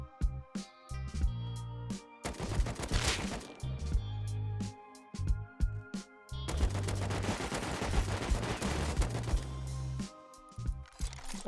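An AK rifle fires in Rust on a stranded island, with rapid automatic bursts and sustained sprays of loud, close cracks that pause briefly and then resume. No one speaks.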